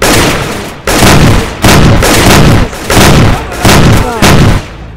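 Repeated booming blasts from an explosion in the Roblox SWAT simulator game, loud and clipped, arriving in six or so evenly spaced bursts over a sustained roar.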